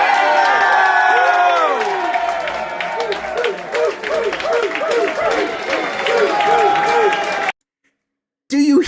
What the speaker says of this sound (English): Everybody in the room is clapping, cheering for John.